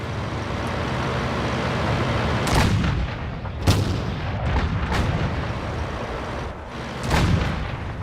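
Tank cannons fire in World of Tanks during a competitive match, with several heavy booming shots at irregular intervals rising over a constant rumbling engine and battle drone, some near and loud, others duller and farther off.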